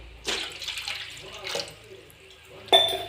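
Water splashes into a cooking pot in bursts before potatoes are added for boiling, three separate gushing pours close by and fairly quiet, with a sharp clink at the last one.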